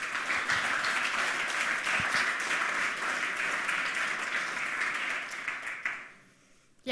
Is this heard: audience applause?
yes